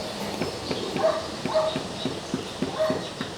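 Repeated sharp taps from a hammer with a rubber handle setting kitchen counter tiles into place, several knocks in an uneven rhythm, close and moderately loud.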